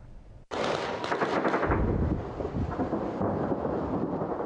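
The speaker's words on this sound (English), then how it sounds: "The sound of gunfire is not unusual in Benghazi." A sudden loud crackle of rapid celebratory gunfire bursts out in Benghazi, Libya, and rolls on continuously with rumbling echoes, heavy and outdoor-sounding, no voices.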